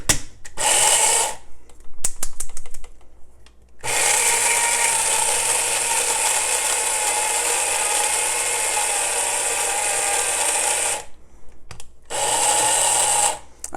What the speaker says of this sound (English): I'm doing it pulses so that it'll move around and more evenly grind.